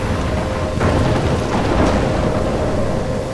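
A thunderstorm with heavy rain in the video game Life is Strange, a steady loud roar of downpour and wind with low rumbling thunder underneath, unbroken throughout.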